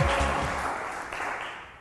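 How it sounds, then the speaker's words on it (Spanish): Applause from a studio audience welcoming a contestant on a university quiz show, a dense clatter of clapping that starts loud and tapers slightly over a couple of seconds. "Aplauso fuerte para Pedro"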